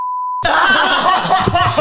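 A steady electronic censor bleep tone sounds alone for about half a second, then cuts off abruptly into loud talk and laughter in a busy indoor setting.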